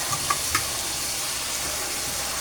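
Liver marinated in soy sauce, pepper and calamansi hits a pan of plenty of garlic, a bright steady sizzle with a few quick spatters and stirring clicks, close and without talk.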